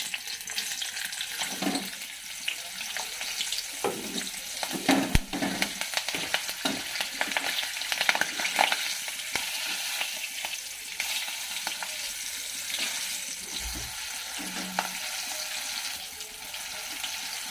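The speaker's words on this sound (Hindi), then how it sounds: "एबे इटा हमें मिर्चा के फ्राई करना" Steady loud sizzle of chilies frying in a hot pan, with occasional stirring scrapes and clinks throughout.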